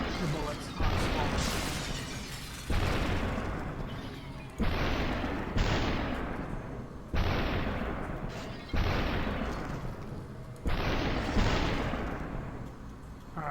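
Gunfire in the game SuperHot: about six loud, spaced shots roughly two seconds apart, each with a long decaying crash, with a voice talking in between.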